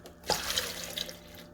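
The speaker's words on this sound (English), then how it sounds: "And I'm going to pour in the chicken broth." Chicken broth is poured into a slow cooker for potato soup, a short steady splash and glug of liquid up close that trails off after about a second.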